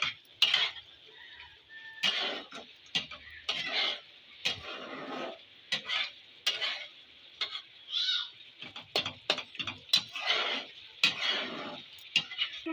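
A spoon stirs cumin and coriander powder in a cooking pan for a pointed-gourd dolma. Close, intermittent metal scrapes and clinks come in uneven bursts over a faint sizzle.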